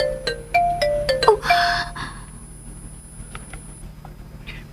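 A cellphone ringtone in a radio-style audio drama plays a quick run of bright melodic chime notes, then fades into a quiet background.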